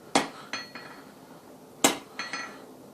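A hammer strikes metal while forging a leaf, sharp ringing blows close by, a hard hit followed by two lighter taps, a pause, then another strong strike and two softer ones.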